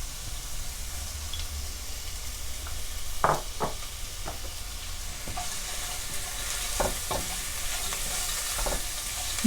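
Onions and whole garam masala frying in oil in a pot, stirred with a spoon: a steady soft sizzle broken by several sharp scraping clicks of the spoon, close and fairly quiet, with no talk.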